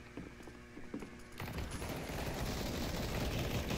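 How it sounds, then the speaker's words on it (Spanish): Gunfire in the video game Counter-Strike: Global Offensive: a few sharp clicks and shots, then a dense rapid burst of automatic fire that carries on loud and steady. "Oigo disparos."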